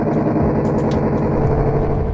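Unsettling ambient drone heard near the red door in the video game Deltarune: a dense, continuous low rumble with grainy texture and faint higher flickers, steady and unbroken.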